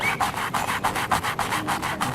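A bristly paintbrush stroking over paint in a painting session outdoors, giving close, rhythmic scratchy rubbing strokes about five per second, steady and alone.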